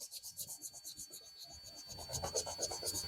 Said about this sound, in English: I'll tap my sandpaper into it, put a little moisture on there, and get a higher polish